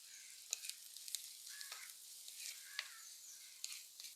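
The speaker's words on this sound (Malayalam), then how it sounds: "ഇഞ്ചിയും വെളുത്തുള്ളിയും അതുപോലെ തന്നെ ചെറിയുള്ളിയും പച്ചമുളകും ഒക്കെ ഒന്ന് വഴന്ന് വരുന്നുണ്ട്" Ginger, garlic, shallots and green chillies sauté in a pan with a steady, close sizzle and crackle, broken by scattered sharp pops and stirring scrapes, with no talking.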